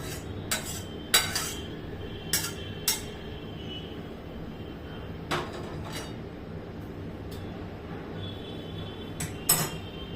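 Roasted semolina is scraped from a pan onto a plate, with a handful of sharp metallic clinks and scrapes of spoon against cookware spaced irregularly over a quiet kitchen background.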